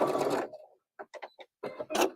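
A sewing machine stitches a quilt seam in a home studio, running in short separate bursts: a longer run, several quick stitch pulses, then another run, close and fairly loud with silent gaps.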